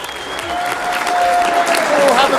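An audience applauding at a lure fishing competition final, a steady, close wash of clapping that builds slightly, with a voice speaking over it.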